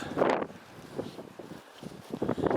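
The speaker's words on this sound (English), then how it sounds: "If you could get away from the wind, this would be lovely." Gusty wind on a rugged Highland hillside at a clearance village, buffeting the microphone in rough surges across a short span.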